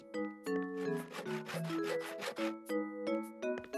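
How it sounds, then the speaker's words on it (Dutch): A saw cuts a wooden ice hockey stick to length in a cartoon scene. Several quick rasping strokes come in a steady back-and-forth rhythm over bright tonal sounds, close and fairly loud. "Dus de man van de winkel zaagde hem af op precies de juiste lengte."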